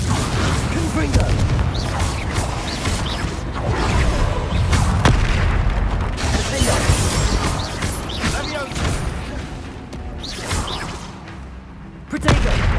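Explosive blasts from the Confringo spell in Hogwarts Legacy, thick booms and whooshes in a dense, loud battle mix that runs throughout, with shouting voices and a sharp burst near the end.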